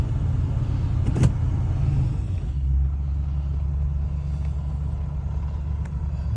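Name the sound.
1979 Lincoln Continental Town Car driving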